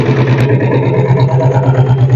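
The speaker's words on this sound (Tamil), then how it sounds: "இப்போ இந்த வண்டிக்கு செல்ஃப் போட்டு காட்டுறேன்" A restored vintage Royal Enfield Bullet motorcycle runs close by in a steady, thumping idle. After a short starter burst, the engine settles into an even low beat.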